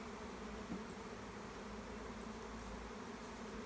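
A steady, low drone of many bees buzzing together, continuous and even throughout, with no voices.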